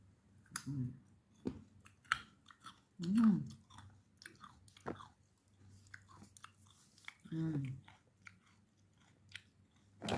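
Freshly cut coconut flesh is chewed up close, with soft crunching bites and wet chewing in irregular bursts between quiet pauses.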